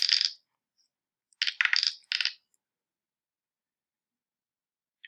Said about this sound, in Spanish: vamos a lanzar los dos dados